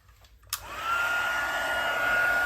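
A heat gun, still hot, blasts at embossing powder on a paper craft project. The close, steady roaring whoosh switches on abruptly after a brief quiet moment and keeps going evenly, with no voices.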